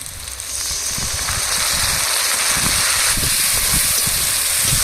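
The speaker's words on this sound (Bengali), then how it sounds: "টমেটো পেঁয়াজ গলে গেলে এবার দিয়ে দেবো টক দই" Sour yogurt (tok doi) added to a pan of melted tomato and onion for a green banana curry, a steady close sizzle and hiss filling the whole stretch.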